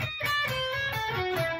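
An electric guitar plays a short lick of descending chromatic tones, a quick run of clear, sustained notes stepping downward, close and alone with no talking.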